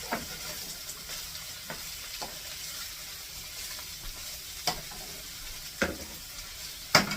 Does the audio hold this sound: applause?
no